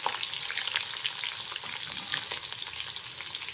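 Ginger-garlic paste and garlic dropped into hot oil with cumin in a pan, a steady loud sizzle and crackle that holds without a break, close and alone.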